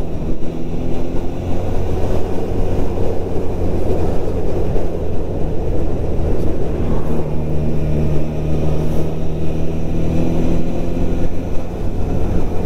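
A 2022 Honda CB 1000 R fitted with an IX Race silencer cruising in sixth gear at low revs, giving a loud, steady engine drone with wind rush throughout and no speech.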